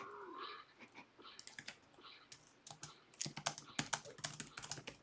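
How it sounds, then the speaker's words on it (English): Typing on a computer keyboard during a PVP farming game session, a fast, uneven run of close keystroke clicks that grows busier and louder toward the end, with no talk. "I'm typing it out"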